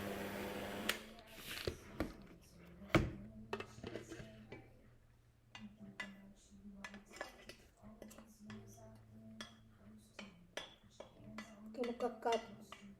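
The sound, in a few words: mixing carrot cake ingredients in a bowl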